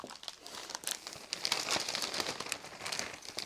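A plastic dust bag for a Festool CT 36 AutoClean dust extractor crinkles and rustles up close as it is fitted, with continuous crackling and brief sharper crumples.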